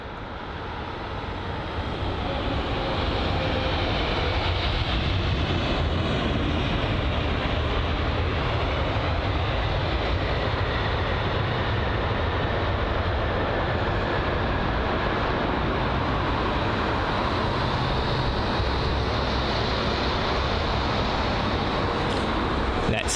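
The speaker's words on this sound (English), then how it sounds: "the BA 777, let's see if this aircraft can touch down nicely" A British Airways Boeing 777 lands at Heathrow, its engines a steady broad roar that swells gently and holds loud and close for the whole stretch, with no talk over it.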